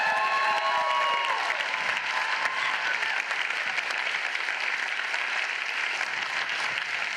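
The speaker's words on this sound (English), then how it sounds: "One more round of applause for Northwest Tap Connection." Steady crowd applause with some cheering fills a large hall during a mayor's State of the City address, a dense, continuous clapping wash with no speech over it, following a tap dance group's performance.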